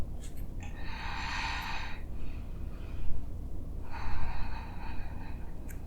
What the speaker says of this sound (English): Let's take about 3 more deep breaths here.